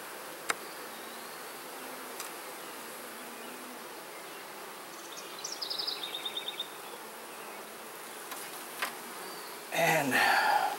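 Bees buzzing around an open beehive during a frame inspection, a faint steady hum with a few louder passes near the end and some handling noise.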